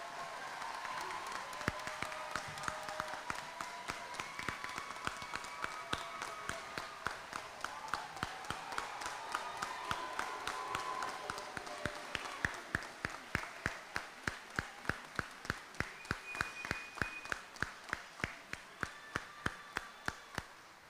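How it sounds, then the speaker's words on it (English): A commencement audience applauds the graduating class of 2023 with sustained, dense crowd clapping that gradually thins into slower, more distinct individual claps toward the end. "Let's have one more applause for our class of 2023."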